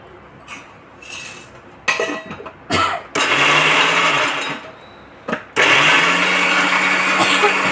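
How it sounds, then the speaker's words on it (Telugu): A kitchen mixer grinder grinds green chillies and peanuts. It whirs loudly and close in short pulsed bursts, then settles into two longer continuous runs. "అవి కూడా మిక్సీలో వేసుకుంటున్నా"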